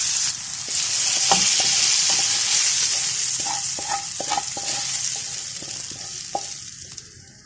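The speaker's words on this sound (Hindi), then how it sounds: "अब इसको हम थोड़ा सा भून लेंगे।" Masala tinda frying in a pan with tomato masala, a loud continuous sizzle close up with scattered spoon clinks and scrapes as it is stirred, fading slightly toward the end.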